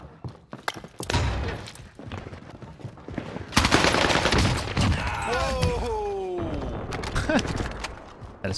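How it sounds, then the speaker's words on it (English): VARGO submachine gun firing in Call of Duty Warzone on Rebirth Island, with bursts of rapid automatic shots mixed among thuds, game effects and busy in-game noise. "The VARGO SMG, one of the best guns in the game."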